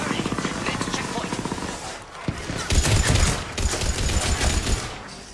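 Weapon gunfire in the video game Mass Effect 3, a rapid automatic burst of evenly spaced loud shots followed by heavier, irregular blasts and booming impacts amid battle noise.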